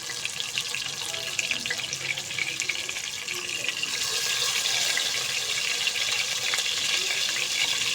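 Chicken pieces sizzle in hot ghee, a steady hissing crackle that grows louder and denser in the second half as more pieces go into the pan, with no talking.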